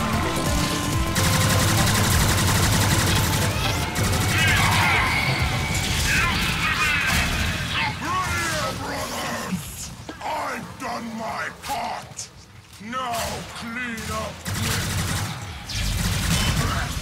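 Warframe gunfire erupts in dense, overlapping volleys during a fight with a Grineer boss, mixed with in-game grunts and yells. It thins briefly near the end before surging again, with a voice talking throughout.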